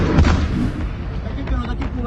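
Cluster missiles striking a US base in Baghdad, heard as a loud, muffled barrage of booms and thuds that rumble on continuously through the short stretch.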